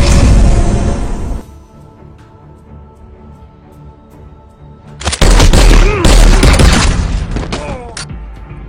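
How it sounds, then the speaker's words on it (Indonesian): Bursts of gunfire from a Korean action film, a loud volley at the start and then dense rapid shots and booms after a quieter stretch, with some speech between. "tiba-tiba Gon muncul dari lift dan menembaknya hingga tewas"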